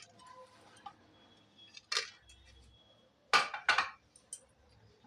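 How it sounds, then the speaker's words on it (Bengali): Whole spices, cinnamon sticks, cardamom pods, cloves and peppercorns, dropped into a pressure cooker for chole, giving a few sharp clinks and rattles on metal, loudest in a quick double burst near the end. "গোটা মশলা দিচ্ছি"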